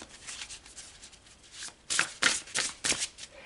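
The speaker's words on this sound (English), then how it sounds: "So let's pull some more cards." A deck of tarot cards is shuffled up close, with soft riffling flutters that grow into several crisp, quick bursts of cards slapping together, no voices present.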